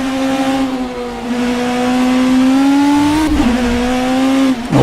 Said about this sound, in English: Kind of listen to the engine sound here of the Beamer.